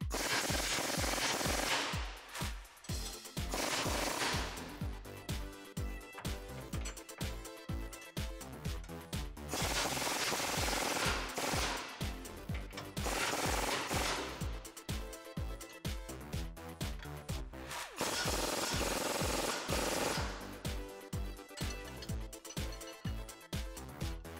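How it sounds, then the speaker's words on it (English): A powered socket tool loosens the upper and lower trailing arm bolts on a 2019-2021 RAM 1500, using a 24 mm socket. It makes loud, rattling bursts of hammering, with three long sustained runs and many short repeated pulses between them. "loosen, but do not remove the bolts on your upper and lower trailing arm with a 24 millimeter socket and a 21 millimeter wrench"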